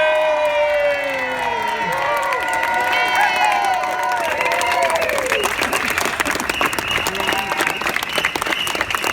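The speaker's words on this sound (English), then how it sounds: "Please join me in giving a huge tumultuous cheer to Julian Assange" Outdoor crowd at a solidarity vigil for Julian Assange breaks into loud cheering and applause, with shouts and whoops, sustained throughout after a voice speaks at the start.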